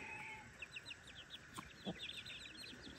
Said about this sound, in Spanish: Qué chulada de pollo.